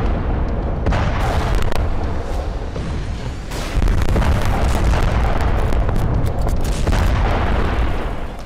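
Heavy bombardment of Gaza in the Israel-Hamas war: a continuous, loud barrage of deep rumbling blasts and booms, with a stronger surge of explosions about midway, and no voices.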